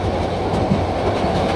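Passenger train on the Dhaka to Cox's Bazar line running at speed, a steady loud rumble of wheels on rails with a faint clickety-clack throughout, heard from on board with no voices.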